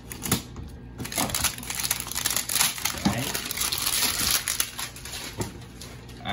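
Packaging of an Eagle Claw fishing kit is cut and pulled open, producing dense, close crinkling and crunching plastic rustle that runs continuously throughout.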